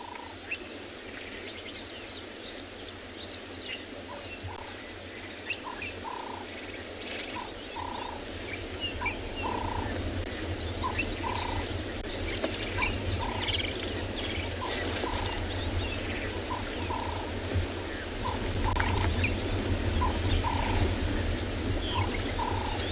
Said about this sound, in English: all you hear in the background, all bird sounds and all of it, since the rain stopped